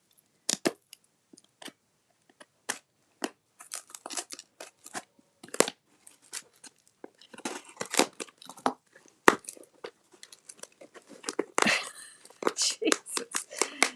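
Packing tape is pulled and torn off a package in a long series of sharp, dry rips and crackles that grow denser and louder toward the end, with scattered short bursts between.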